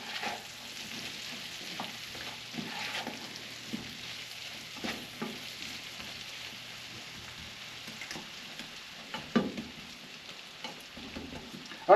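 An egg casserole mixture simmering in a pan gives a steady, soft, rain-like frying hiss with faint crackles throughout, heard up close and alone at low volume.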